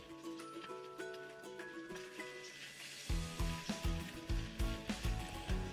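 Chopseuy of mixed vegetables and shrimp sizzles in a pan, a quiet steady frying hiss at first, then louder scraping stirs with rhythmic clattering strokes in the second half.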